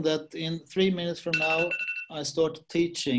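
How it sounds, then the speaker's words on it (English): A steady electronic alarm tone rings for just under a second in the middle, under a man's continuous lecture speech. "That was my alarm."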